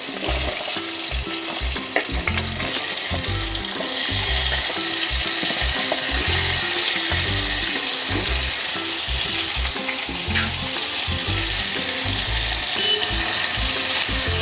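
Potato and cauliflower pieces fry in a pan, a dense, loud, steady sizzle close by. Rumbling low bursts repeat throughout as the pieces settle and crackle in the hot oil.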